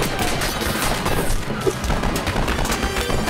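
Dense, continuous gunfire from the Lego Batman video game crackles loudly and without pause in a rapid, steady barrage.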